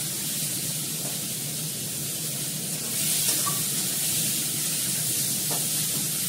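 Potatoes with ginger and onion frying in a pan give off a steady, loud hiss and sizzle that swells slightly partway through, close up and continuous, with no voices.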